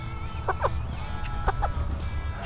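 Several short chicken clucks in pairs over a steady low rumble of background noise, fairly close.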